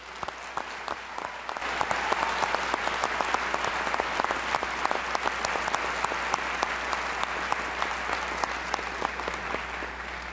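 An audience at a commencement ceremony breaks into sustained applause as speaker Dr. Shapiro is welcomed, the clapping swelling quickly and holding dense and steady for about ten seconds in a large room.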